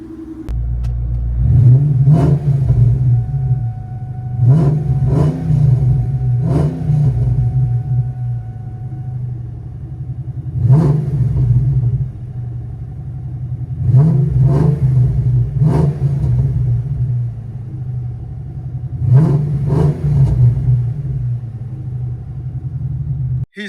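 Interior cabin sound of a 2003 Ford Mustang SVT Cobra with a supercharged 4.6L V8, headers and Borla exhaust, a steady deep drone punctuated by repeated revving surges in clusters, loud and continuous with no talking.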